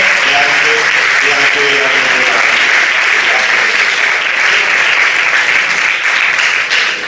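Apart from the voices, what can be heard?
audience applause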